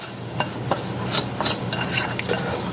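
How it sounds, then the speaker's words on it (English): Graham cracker crumbs being stirred into melted butter in a bowl, a steady scraping and rubbing with a few sharper clinks of the utensil against the dish, close up. "We're going to mix that until everything is evenly coated"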